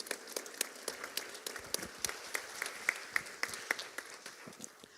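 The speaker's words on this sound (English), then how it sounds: "give a round of applause" Modest audience applause at a Social Security town hall held in a Baptist church, a sparse crowd clapping with distinct individual claps, fairly faint and without talk.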